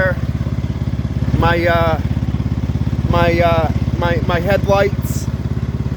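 A small garden tractor engine from the X T1 Enduro series idles steadily close by after a cold start, a continuous low rhythmic thrum that runs throughout while a person talks over it.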